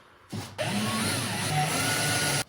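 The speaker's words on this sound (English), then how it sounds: "Let's drill these holes." A steady, loud mechanical whir runs for about two seconds after a brief start-up burst, like a power drill boring into material close by.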